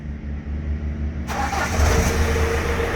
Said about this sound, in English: Let's do another start, mate, and see what it actually starts like now.